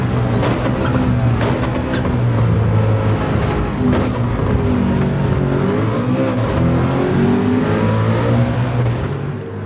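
A Nissan R34 in Gran Turismo 7 screams along at high revs with steady engine drone, its pitch dipping and climbing through gear changes, loud and continuous without pause.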